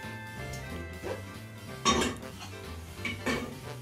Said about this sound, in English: Scraping it all out because I want all that yummy golden syrup and butter.